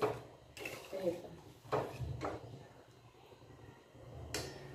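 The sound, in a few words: cooking lapshi in a kadhai, utensils clinking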